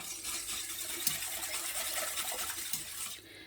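Agar jelly mixture coming to a boil in a pot, a steady close bubbling and hissing wash with faint clinks, sustained evenly before easing off at the end.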